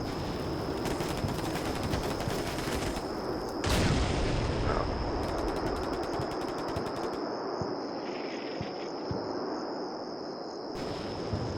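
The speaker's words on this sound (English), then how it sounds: "Still artillery fire's coming down." Artillery fire in the Combat Mission Black Sea battlefield game comes as a dense, rumbling barrage of distant blasts and crackling impacts, with a stronger burst partway through, over a steady high whine.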